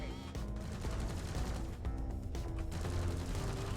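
Rapid gunfire in Deep Rock Galactic, fairly faint and distant, with clustered shots and mechanical clatter repeating throughout.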